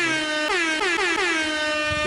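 A loud, blaring air horn sounds alone in several quick rising-and-falling blasts, harsh and close.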